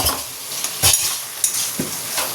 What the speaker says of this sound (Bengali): এবার এতে বেটে রাখা পোস্ত আর কাঁচা লঙ্কা দিয়ে একটু ভাজা ভাজা মতন করে নামিয়ে নেব।